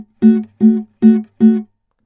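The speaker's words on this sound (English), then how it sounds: "We're just going to pinch those strings and then lift our fretting hand" Four short, evenly spaced plucked guitar chords, each pinched off quickly for a clipped staccato feel, close and clear, then silence.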